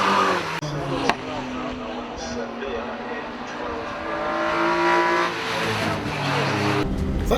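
A racing hatchback built on an £850 budget drives down the pit straight to the finish, its engine a sustained loud drone that holds and rises slightly, with a voice talking over it.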